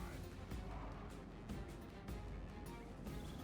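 Battle din from Total War: Medieval II, with Ranger units loosing volleys: a dense, steady roar of combat noise broken by several sharp, loud impacts spread across the clip.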